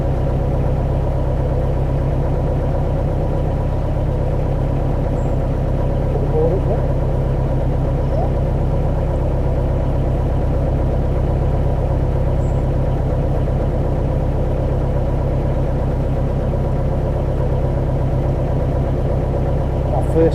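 A boat engine idles while motoring along, giving a steady, low, throbbing hum that stays even and close throughout.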